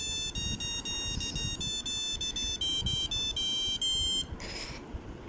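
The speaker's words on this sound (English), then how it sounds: "And then it will play a sound through the buzzer." An electronic buzzer on a hobby microcontroller project plays a Happy New Year tune: a run of shrill, evenly spaced beeping notes with short gaps, loud and close, ending abruptly before a brief softer tone.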